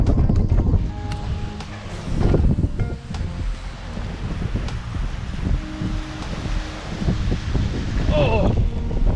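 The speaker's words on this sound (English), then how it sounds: "Don't matter if it's this windy outside," Gusty wind buffets the microphone in loud, uneven bursts while bass fishing outdoors, with rustling grass and faint water sounds.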